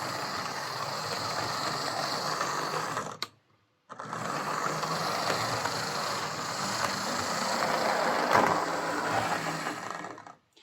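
A Lima Class 50 model locomotive with a faulty chassis whirs roughly along its track, a steady buzzing motor drone that drops out briefly around the third second, then resumes with a rattly edge, close up, no voices.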